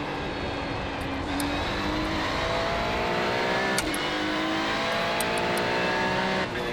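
A Ferrari 296 GT3 race car in the iRacing sim holds a loud, continuous engine roar climbing through the revs, with rising harmonic sweeps and brief shift dips, no voices.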